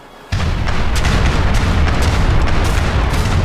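Ship cannons in Age of Empires 3 unleash a loud, sustained broadside of booming blasts that begin abruptly and keep rolling with overlapping bursts, with no talk over them.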